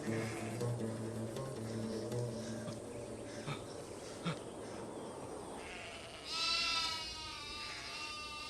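Sheep bleating repeatedly in a pastoral outdoor setting, several calls overlapping at moderate distance, with a louder, higher bleat near the end.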